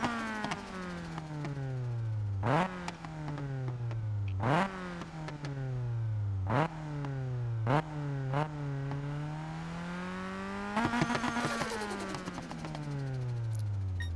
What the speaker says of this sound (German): So hört sich ein Turbolader an.